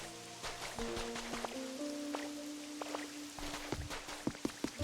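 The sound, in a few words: rain in the video game Pokémon Pokopia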